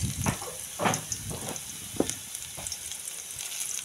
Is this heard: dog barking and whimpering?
no